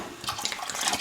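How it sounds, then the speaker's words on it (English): Warm water for a Jamaican-style chicken soup pours in a continuous, fairly loud splashing stream with no one speaking. "This is the water that I'm going to use for my soup"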